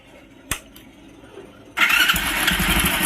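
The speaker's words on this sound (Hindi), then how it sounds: "तो चलिए सबसे पहले इसको हम चालू करके इसके आवाज़ को भी सुना देते हैं।" A Hero Splendor Plus motorcycle with a noisy timing chain starts up: a click or two over quiet, then the engine catches and settles into a loud, steady, close idle with a rattling edge.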